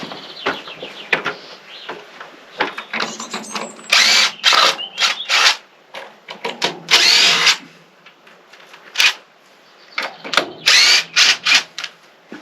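A power drill backs screws out of wooden ring beam formwork in repeated short whirring bursts, some rising in pitch, separated by pauses with faint clatter, close and fairly loud.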